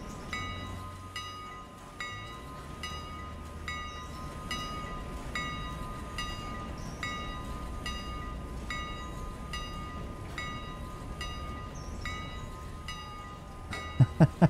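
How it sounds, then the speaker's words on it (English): A passenger train in a railway simulation game rumbles steadily along with a regular rhythmic clatter of wheels over rail joints, ending in a few sharp knocks. "And we got our passenger train."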